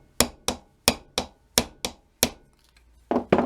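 Hammer gently tapping a hydraulically crimped hose fitting for a new fuel line: about seven crisp, evenly spaced metallic taps up close, then a short pause and a couple of softer knocks.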